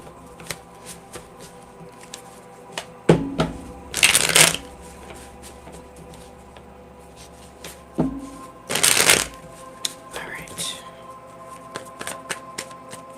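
Tarot cards being shuffled by hand, two brisk riffling bursts separated by quieter handling taps and card snaps, close and crisp against a faint room hum.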